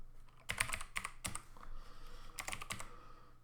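Quick bursts of keystrokes clatter on a computer keyboard, close and fairly quiet, in short uneven runs with brief gaps while code is typed.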